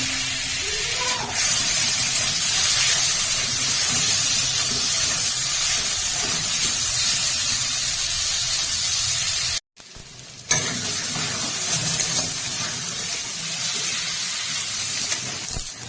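Potatoes and spices fry together in a pan, giving a steady loud sizzle and hiss throughout, with a brief dropout partway and faint kitchen movement underneath.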